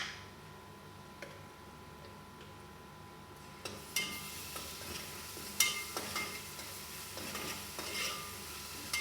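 Ginger paste sizzles in a hot pan while it is stirred for a fish curry, a soft steady frying hiss with scattered ticks and utensil scrapes growing busier partway through.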